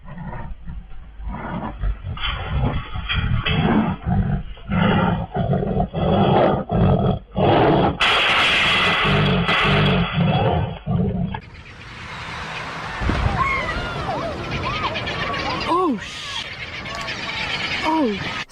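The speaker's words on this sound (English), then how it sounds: "This farmer was out doing work when a wild tiger came out of nowhere." A wild tiger roaring as it comes out at a farmer working outdoors: a series of loud, rhythmic roars and growls, followed by a noisy stretch with shrill cries and people shouting in the background.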